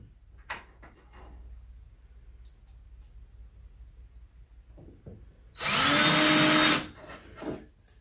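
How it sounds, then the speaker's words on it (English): A power drill driving screws into pre-drilled wood, one loud steady whir lasting about a second after quiet handling noises, with no talk. "I pre-drilled this piece right here. Let me start these screws."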